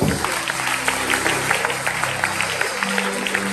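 A church congregation applauds and cheers in praise of the Lord, a steady wash of clapping with rhythmic accents and a low hum beneath, filling the space throughout.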